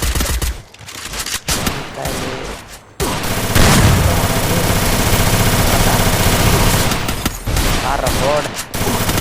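Desert Eagle gunfire in the Free Fire video game booms in heavy, loud volleys, with a sustained stretch of shooting and scattered sharp shots around it.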